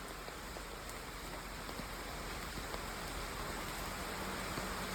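Rain falls steadily outside a Maruti Swift with manual gear in Varkala, a dense even hiss of drops on the car, constant and fairly faint, with no voices.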